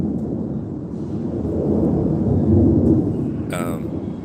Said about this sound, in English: this plane is loud